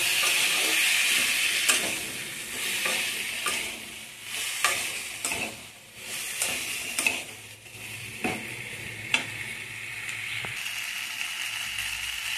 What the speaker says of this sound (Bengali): আমি কিন্তু এটাকে ভালো করে নেড়ে চেড়ে কষিয়ে নেব।